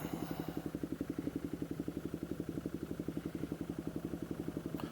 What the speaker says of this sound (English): that exhaust system's definitely been uncorked